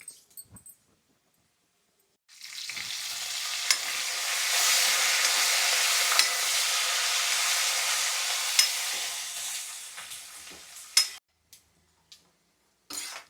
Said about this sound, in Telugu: పక్కన జీడిపప్పు కూడా వేస్తున్నాను ఇది కొంచెం దోరగా వేగితే